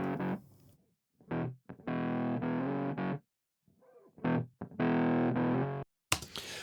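Short bursts of fuzzy, distorted electric guitar chords start and stop abruptly with gaps of silence between, dry and close with no echo.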